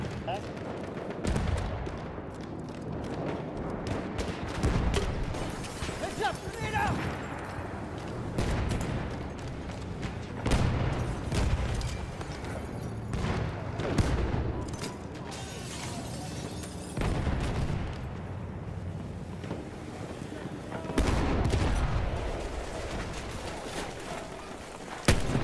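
Rapid gunfire and scattered explosions fill a Battlefield 1 multiplayer match, bursts of shots arriving in clusters, some close and loud, others more distant, with occasional louder booms throughout.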